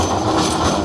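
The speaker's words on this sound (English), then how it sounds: "And you see the old banana tram which is going" An old Blackpool tram near the North Pier rolls past close by, a loud rumbling rail roar with faint clatter, filling the short moment without any talk.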